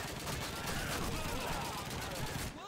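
Dense gunfire from a Call of Duty 2 D-Day battle at Pointe du Hoc, a continuous roar of overlapping shots and battle noise that holds steady for nearly three seconds before cutting off abruptly.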